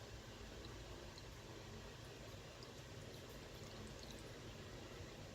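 Water pours steadily from the spout of a Finex 10-inch cast iron pan, a continuous rushing stream at even loudness with no talking.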